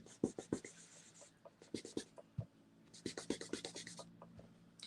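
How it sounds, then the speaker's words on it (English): Dry paper towel rubbed over watercolor pencil pigment on paper makes quiet, close scratchy strokes in quick uneven bursts, like writing, with no talking. "I'm actually just trying to buff off with dry instead of a wet paper towel."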